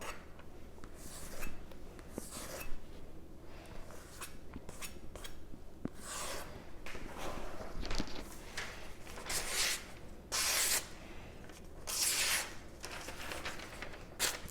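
Steel knife blade scraped repeatedly along a Sharp Pebble whetstone, giving rough gritty strokes that grow louder and harsher in bursts toward the end, close and alone with no talking.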